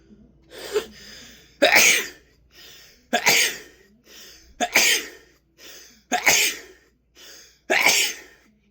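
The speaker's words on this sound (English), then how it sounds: "Whenever my stomach feels empty, I sneeze." A person sneezing repeatedly: six loud, sharp sneezes at an even rhythm of roughly one every one and a half seconds, each preceded by a quick inhaled breath, close and alone.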